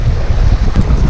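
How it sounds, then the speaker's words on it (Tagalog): Strong wind buffets the microphone aboard a fishing boat off a ship harbor, a loud, constant low rumble with gusty swells and a faint splash of water beneath. "Ito na hangin."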